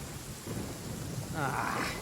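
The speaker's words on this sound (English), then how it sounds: "Uh-oh! Lightning storm!" Heavy rain rushes steadily with a low thunder rumble swelling underneath during a lightning storm in Genshin Impact, an even broadband downpour that fills the whole span.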